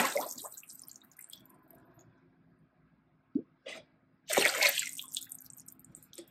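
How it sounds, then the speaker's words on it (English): Liquid pottery glaze is tipped back out of a ceramic pot, a few short drips and splashes leading into a louder gush of pouring liquid toward the end, quiet and close. "And then I pour out the glaze."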